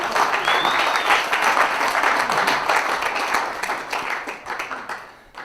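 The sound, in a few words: audience clapping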